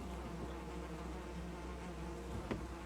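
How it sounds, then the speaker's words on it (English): Insect-like buzzing from bees in the survival video game Valheim, a steady low drone holding throughout, with a brief louder burst near the end. "Am I going to get poisoned by bees?"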